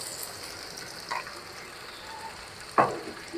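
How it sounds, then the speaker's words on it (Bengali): Onion with cumin paste and ginger-garlic paste frying gently in a pan, a low steady sizzle with a couple of brief scraping stirs. "এটাকে আমরা মৃদু জালে সুন্দর করে একটু ভুনা করে নিব"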